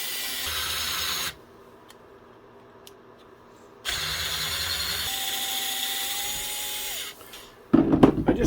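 Hart 4V cordless screwdriver driving a screw: a whirring motor runs for about a second, pauses, then runs again for several seconds and winds down, followed by brief handling clatter.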